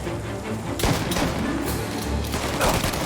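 Gunfire in the video game Mafia Definitive Edition rings out as a loud, dense fusillade of overlapping shots and thuds, sustained and close, with no pause throughout.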